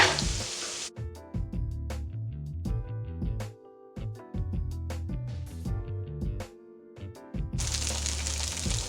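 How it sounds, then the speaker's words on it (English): Tofu frying in a pan with a constant sizzle, broken by repeated clatter and scraping as the pieces are flipped, fairly close and loud. "I've just been cooking my tofu for about 5 minutes now, and all I'm doing is just kind of flipping it"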